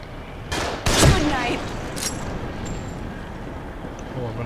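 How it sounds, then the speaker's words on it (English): In The Evil Within video game, enemies shoot from above: a few sharp gunshot cracks close together, then another a second later, over a low rumbling game backdrop. "They're shooting from above."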